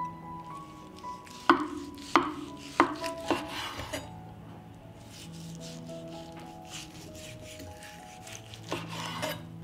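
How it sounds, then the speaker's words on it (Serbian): A knife chops a smoked chicken drumstick on a board, giving a run of sharp, distinct close-up chops in the first half, then softer cutting and scraping with faint kitchen clatter. "Dok čekam da voda proključa, iseći ću jednu dimljenu butkicu"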